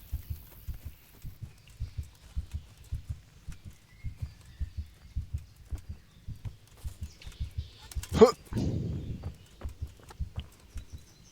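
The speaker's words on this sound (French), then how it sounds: "J'en ai marre d'entendre ce battement de cœur" A low, steady heartbeat thuds in regular paired pulses throughout in Kingdom Come, fairly faint, with a sharper burst and brief rustle near the end.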